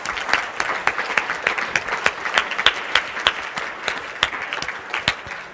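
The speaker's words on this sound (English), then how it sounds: "Why don't we give them a round of applause?" Applause from a Christmas Eve gathering: a small group clapping steadily and close by, with distinct individual claps throughout for several seconds.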